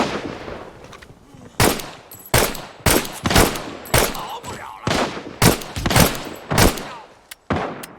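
Gunfire in the video game Arena Breakout: a series of loud, sharp shots fired in short bursts and single cracks across the clip, with reverberant tails between them and no talk.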